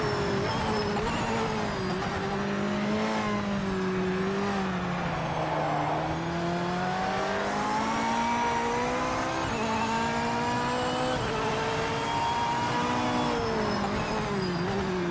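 Corvette race car engine in the racing game Project Motor Racing, a steady loud drone that rises and falls smoothly through gear changes and revs, continuous for the whole stretch with no talk over it.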